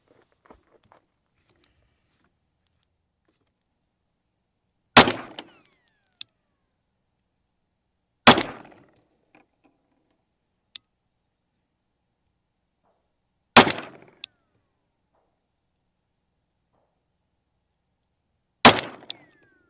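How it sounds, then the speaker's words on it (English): Four sharp, loud 9mm pistol shots from SuperVel +P 115 grain solid copper hollow points ring out at a target range, several seconds apart, each with a brief decay and faint clinks in between. "I'm going to start off with SuperVel 9mm plus P 115 grain solid copper hollow points, and I'm going to shoot the top left target to start."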